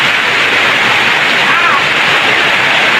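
Floodwater rushing after Typhoon Kristine forms a loud, continuous broadband roar with no pauses, with a voice speaking faintly beneath it.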